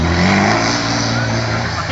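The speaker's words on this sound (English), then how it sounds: "A few donuts there from Phil Ward in the old Jackie Dania" A racing truck doing donuts on the oval at Hednesford Hills gives a loud, sustained engine drone that rises and falls as it circles, under a voice talking over the top.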